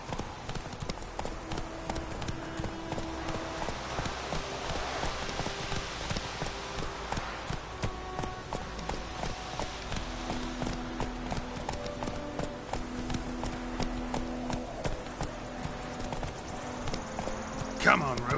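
Roach, a horse in The Witcher 3, gallops with a rhythmic, continuous clip-clop of hooves beneath game dialogue and a faint background score.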